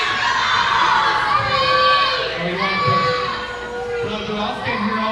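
A wrestling event crowd reacts with a loud, sustained wash of shouts and scattered cheers that swells, dips and rises again throughout.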